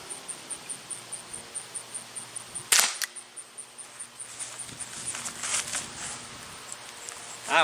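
A Walther CP99 Compact air pistol is fired over a chronograph, one sharp, loud crack standing out amid a run of soft rhythmic clicks and small handling knocks, with scattered light taps afterward.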